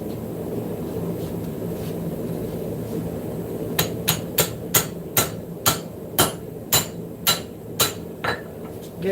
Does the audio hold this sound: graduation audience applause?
no